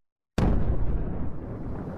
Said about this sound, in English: Is that a missile launch?